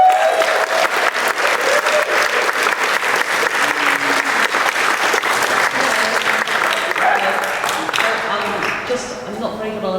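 A gallery audience claps steadily to welcome a speaker before a talk on Ralph Steadman's art, the dense applause continuing loud and even before thinning out near the end.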